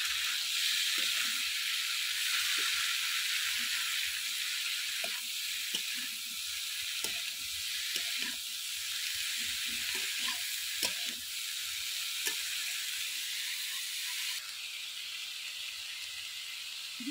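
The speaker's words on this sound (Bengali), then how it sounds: "এবার দিয়ে দেব ধুয়ে রাখা মিটুলি বেগুন আর আলু।" Washed mitul eggplant and potato fry in a hot pan for a prawn and Malabar spinach dish, giving a loud, steady sizzling hiss with soft clicks and stirring knocks scattered throughout.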